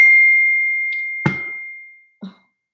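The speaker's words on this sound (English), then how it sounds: "everything ringing. Apple, all the devices going off" Apple device notification chimes, a sustained pure electronic tone fading out with two short ding-like blips in between, close and clear against silence.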